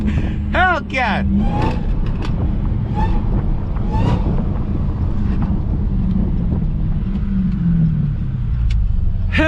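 An 800hp Dodge Hellcat driven hard and drifted, giving a continuous loud engine roar with rising revs at the start, heavy wind buffeting and occasional voices underneath.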